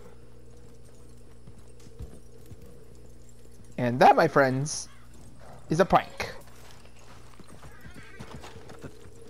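Horse hooves clip-clop in the Red Dead Redemption Online video game, a steady walking rhythm running low under the scene while someone talks over it and a horse whinnies in two short bursts.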